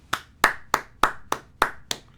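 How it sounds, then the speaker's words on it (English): Eight sharp hand claps at a steady, slightly slow rhythm, close by and crisp, with no other sounds. "I promise you I'm clapping right now over the jugs."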